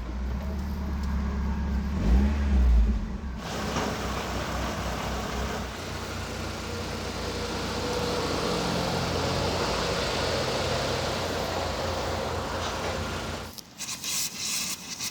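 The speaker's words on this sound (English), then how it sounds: "Engine on." A car engine runs steadily, low and even, with a brief thump as it starts and a steady hum for several seconds before cutting off.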